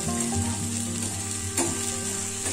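Sliced shravan ghevda beans fry in hot oil in an iron kadhai, a continuous soft sizzle with faint scraping and stirring clinks, heard close and alone.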